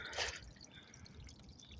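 Water dripping down rocks beside a small waterfall in the Russian hills, a short bright splash at the start and then a soft, steady trickle with low outdoor rumble beneath.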